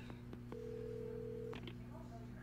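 A telephone being dialed in the Alan Wake video game, a few short tone blips followed by a sustained tone, quiet and thin against a low background hum.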